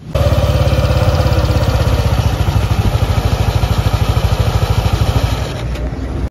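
A Yamaha Aerox 155 scooter with a modified torque drive runs close by, its engine putting out a loud, steady, rapidly pulsing putter with clattery overtones that cuts off abruptly at the end.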